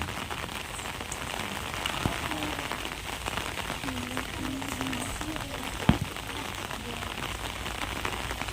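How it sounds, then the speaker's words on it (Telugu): Heavy rain pours steadily onto surfaces outdoors, a dense continuous hiss with scattered drips and one sharp tap; faint voices murmur underneath. "వర్షం అయితే ఫుల్గా పడుతుంది"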